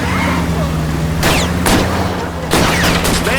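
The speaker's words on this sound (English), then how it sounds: "I'll try to shoot out his tires" Gunfire aimed at a fleeing car's tires during a chase in L.A. Noire: two or three sharp, loud broadband shots spaced about a second apart over a steady engine drone, with no talk.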